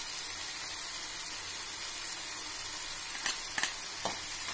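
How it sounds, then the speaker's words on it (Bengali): Dal being sautéed with spices in a pan for a jackfruit dal curry, giving a steady, soft sizzle throughout with a few brief scraping clicks of a spoon near the end. "আমি সব মশলার সঙ্গে ডালটার সঙ্গে একটুখানি কষে নেব।"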